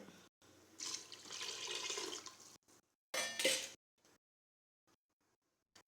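Water pours in bursts into a metal cooking pot for chicken biryani rice, a longer stream then a shorter splashy one, with clinks and faint clatter in between.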